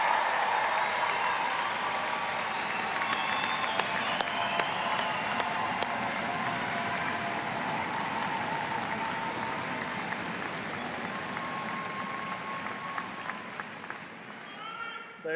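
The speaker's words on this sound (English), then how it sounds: "Let's have another round of applause for the outstanding class of" An audience at a spring 2024 convocation applauds the graduating class, sustained dense clapping from a large crowd throughout, with scattered sharper claps standing out and the applause tapering slightly toward the end.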